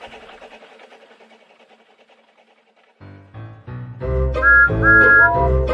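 A steam engine whistle sounds a wavering, sustained tone that fades away, then cheerful music enters with a bright melody.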